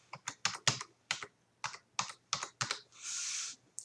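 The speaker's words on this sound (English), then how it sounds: "I'm going to type in here" Close keystrokes on a computer keyboard as a folder name is typed, a dozen crisp irregular clicks followed by a brief hissing whoosh near the end, with no voices.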